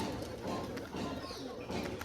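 Pigeons coo softly in low, throaty bursts at a rooftop loft, fairly faint against a busy outdoor background of rustling and distant noise.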